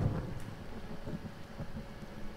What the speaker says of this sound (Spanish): tormenta cercana